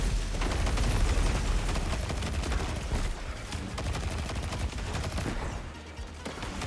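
Auto rifle fire in a sci-fi shooter video game comes as a dense, rapid stream of loud shots that barely pauses, with impacts and battle noise mixed in throughout.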